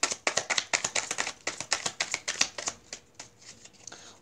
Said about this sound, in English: One more shuffle or take the top card.